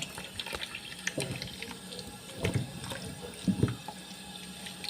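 Water is poured over grapes to wash them, making a low, steady splashing trickle with a few louder splashes close by, no talking.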